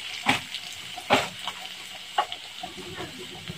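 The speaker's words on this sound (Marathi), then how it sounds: "1 चम्मच आपला खानदेशी मसाला, थोडीशी हळद पावडर, छान असं मिक्स करून घ्यायचं आहे" Khandeshi masala and turmeric powder being stirred into a pan of frying food, with a soft steady sizzle and a few sharp spoon scrapes against the pan.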